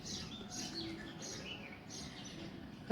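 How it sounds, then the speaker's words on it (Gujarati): Sparrows chirp outdoors in a faint, distant scatter of high thin calls over a steady low background hum, with no voices. "તો બહાર સરસ મજાની ચકલીઓ ઓલી રહી છે"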